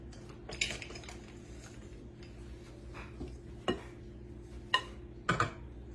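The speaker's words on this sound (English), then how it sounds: "So we're going to add this back into the cooker." Shredded food goes back into a cooker as a utensil clinks and scrapes against the pot in a few sharp, close knocks, with quiet pauses between them.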